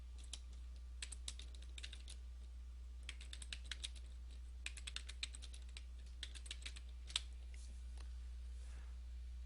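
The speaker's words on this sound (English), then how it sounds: "So if I continue to type," Typing on a computer keyboard while writing in Word 2007 text boxes, bursts of quick, light key clicks separated by short pauses, close and quiet over a steady low hum.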